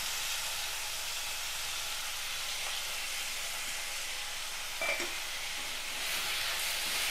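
Tomatoes and curry leaves sauté in a pan with a steady broadband sizzle and hiss throughout, faint stirring scrapes now and then, and a brief clink near the end, with no voices.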